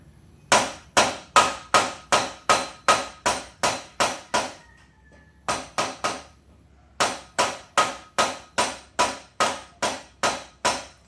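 Sharp metallic taps from a small hammer strike in quick, even bursts while replacing steering head bearings on a Kawasaki motorcycle, a pause, then more rapid blows, close and clear with no talking.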